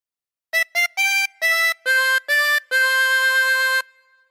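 Harmonica playing a short phrase of "When the Saints Go Marching In": a few quick separate notes, then held tones, ending on one long sustained note; clear and close with no voices.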